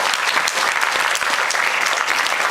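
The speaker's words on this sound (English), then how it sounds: "please give some applause to the volunteers who volunteered their time" An audience at a fan convention applauds the volunteers, a continuous, dense roll of clapping from many hands, fairly close and even in volume.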